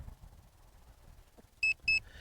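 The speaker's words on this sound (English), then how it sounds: "And I'm going to see if I can stop that beep by holding down the function button." A Hubsan Zino 2 Plus drone controller gives two sharp, short electronic beeps close together near the end, over faint low background noise.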